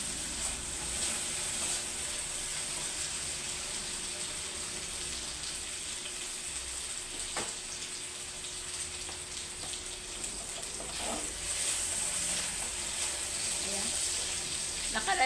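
Ground pork giniling sizzles steadily in a pan with garlic, and a spoon or spatula scrapes and stirs now and then. It stays at a moderate, constant level, while someone talks quietly in the background.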